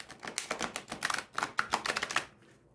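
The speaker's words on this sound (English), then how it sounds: "So, look at this, riffle shuffling." Tarot cards riffle shuffled by hand: a fast burst of crisp, close flutter-clicks as the two halves interleave, ending abruptly in quiet.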